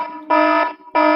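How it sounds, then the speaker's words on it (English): An electronic alarm sound effect blares in two loud, steady buzzing tones separated by a brief gap, with no talking. "yeah, sound the alarms"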